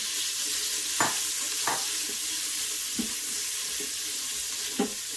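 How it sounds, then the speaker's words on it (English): Onions fry in a pan with a steady, close hissing sizzle, broken by several distinct scraping clacks of stirring spaced about a second apart. "I'm gonna go ahead and add in my onions"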